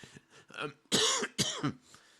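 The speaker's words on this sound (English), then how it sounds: "Got a nice little cough in there right at the end" A few short, sharp coughs close up, following some quieter breathy throat sounds.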